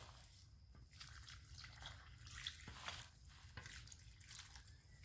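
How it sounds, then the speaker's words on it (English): Water poured over elderberry cuttings planted in dirt, a faint trickling and dripping with soft splashes and squishy soaking sounds, close and continuous without talk. "I'm going to give them some water."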